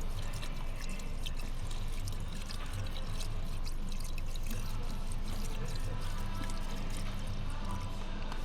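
Washer solvent pours steadily into the washer fluid reservoir of a 2017 Hyundai Elantra, a continuous close liquid rush that lasts the whole time with no talking.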